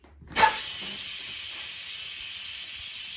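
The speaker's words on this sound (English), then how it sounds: "And then it's gonna let out steam for a little while." A pressure cooker vent bursts into a loud, steady hiss of steam while pasta e fagioli with beans cooks, starting abruptly and continuing unbroken to the end.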